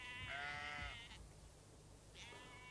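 Sheep on a farm bleat twice, a near, wavering call followed by a shorter one, over quiet outdoor background.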